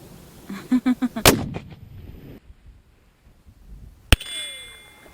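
Rifle shots from a 6.5 GAP 4s SAUM fired at a steel target 1700 yards away, heard as one loud, sharp report followed by a fading rumble and a later second crack, with a few softer thumps before the first shot.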